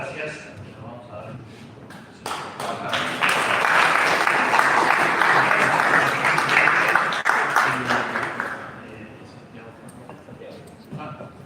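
Audience applause at a Rotary Club de Montevideo meeting, swelling into a dense, steady clatter of many hands for several seconds before tapering off, with some voices around it.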